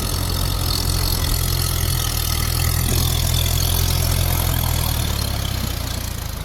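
Tractor engine running in first gear while levelling a ploughed field, a steady loud low drone with continuous mechanical clatter, close and alone without talk.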